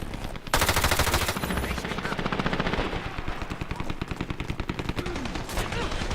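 A deployed turret in the shooter Dirty Bomb, on an indoor map, hammers out a long, steady stream of rapid automatic fire, loud and continuous with sharp, evenly spaced shots.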